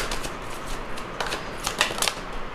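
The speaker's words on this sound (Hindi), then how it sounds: "और 2 बार शफल करूँगी।" A deck of tarot cards is shuffled close by in a quiet room, giving a series of soft riffling and flicking bursts, the brightest near the end, with no talking.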